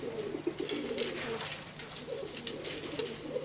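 A cropper pigeon coos in a series of soft, throaty, rolling calls, close and steady over a faint background hiss, with no voices.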